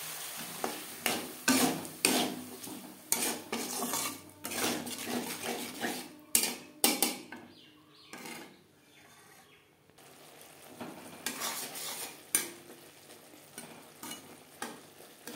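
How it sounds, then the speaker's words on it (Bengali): Peas sautéed with spices in a pan over a low flame give soft sizzling under repeated scraping and stirring strokes, with a quieter pause partway through. "তিন 4 মিনিট লো ফ্লেমে মশলার সাথে মটর কষিয়ে নেওয়ার পর"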